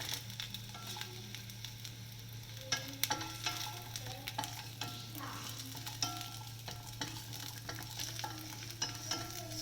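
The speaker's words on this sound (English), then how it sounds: "Once the garlic and ginger are sauteed" Garlic and ginger sautéing in a pan, a continuous soft sizzle with intermittent stirring scrapes and small crackles, fairly quiet and close, no voices.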